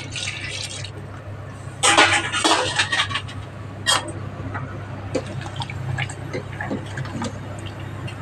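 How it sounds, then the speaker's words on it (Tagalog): Water splashes and trickles into a pan of simmering fish curry with coconut milk, a burst of pouring followed by lighter drips and clinks of cookware. "Lagyan natin ng tubig."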